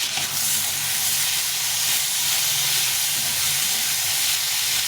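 Chopped tomato hits frying onions in a hot pan, setting off a loud, steady sizzle and hiss that holds evenly from start to finish with no voices.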